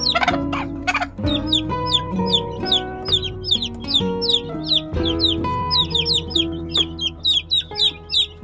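Several hens cluck together with their week-old chicks in a shared pen, the chicks' high peeping chirps running constantly over the lower, steady clucking of the mother hens.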